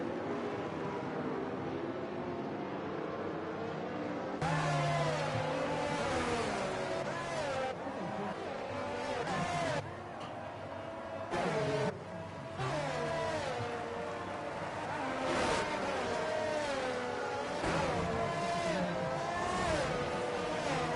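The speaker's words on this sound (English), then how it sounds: "That's a beautiful helicopter shot of a few cars there." Race cars circle Suzuka in a racing video game, with continuous engine drone and rising, shifting revs under game sound.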